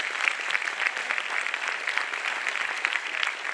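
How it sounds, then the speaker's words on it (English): An audience applauds the participants of a panel discussion with an even, sustained round of clapping at moderate level, with no voices over it. "Could you please give them a round of applause?"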